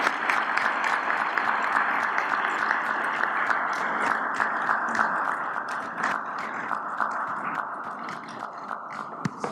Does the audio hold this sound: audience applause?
yes